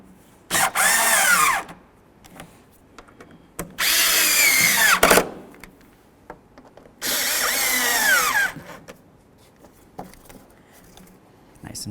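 A power drill tightens headlight housing bolts on a 2008-2012 Jeep Liberty in three loud, close whirring bursts of a second or two each, with brief clicks and handling noise in the gaps.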